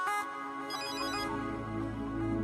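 A phone ringtone plays alone, steady and moderately loud, with a repeating electronic tone pattern that runs for a couple of seconds and has no voices over it.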